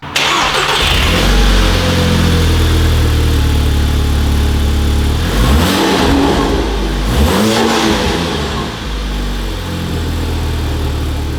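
Volkswagen GTI engine cranking and catching, then settling into a loud idle with several rising and falling revs in the middle before returning to a steady idle, close by and with no talk.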